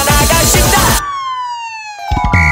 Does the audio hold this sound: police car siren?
yes